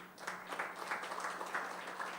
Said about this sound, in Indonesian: Tepuk tangan dong buat Yesus.